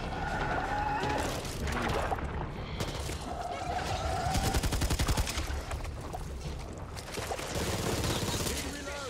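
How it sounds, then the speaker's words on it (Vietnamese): Rapid machine gun fire in the zombie shooter Back 4 Blood, bursts of fast repeated shots against game noise and background clamor, with someone talking over parts of it. "Thôi mình lấy súng máy đi."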